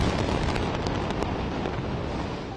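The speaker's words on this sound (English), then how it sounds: "Explosions rumbled through the night after Israel declared war on Hamas on Saturday." Dense, continuous low rumble of explosions at night during war in Israel and Gaza, steady and loud throughout with faint crackling bursts near the start, no voices.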